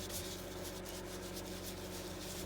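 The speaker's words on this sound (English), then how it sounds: "And I apply it with a round brush" A round brush scrubs homemade chalk paint onto an antique dresser, giving a soft, continuous rubbing hiss with faint rhythmic strokes, quiet and close.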